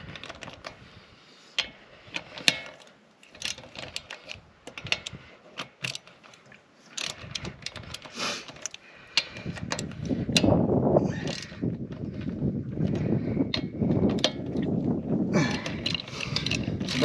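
A truck wheel, raised off the ground during brake work, spins with rapid mechanical clicking and ratcheting, then gives way to a louder, continuous whirring grind.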